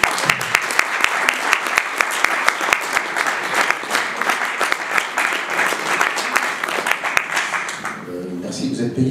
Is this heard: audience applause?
yes